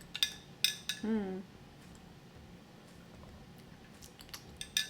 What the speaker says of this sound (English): So I'm gonna just give this a quick little stir before I put my ice in it.